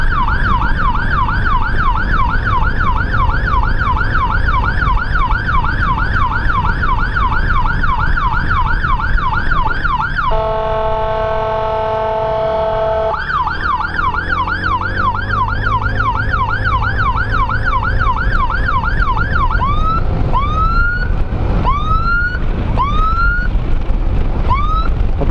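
A loud ambulance siren in Tasikmalaya, Indonesia, wails in a rapid repeating yelp, briefly shifts to a steady two-tone blare, then returns to slower rising whoops, over road rumble.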